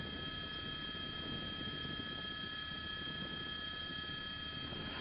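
Police helicopter flying overhead during a pursuit of a suspect, a steady droning rotor and engine noise holding at constant loudness throughout with no talk.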